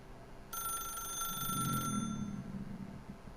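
Old-fashioned telephone ringing in The Stanley Parable, one bright metallic bell trill lasting over a second, followed by a low muffled rumble, no voices.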